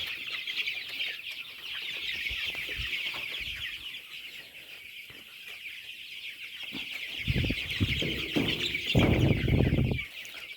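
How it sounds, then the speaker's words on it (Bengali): Chickens on a farm at night cluck in a dense, steady chorus, with a busy high chatter of birds throughout and a few closer, louder clucks toward the end. "এই যে সেই ছোট মুরগিটা"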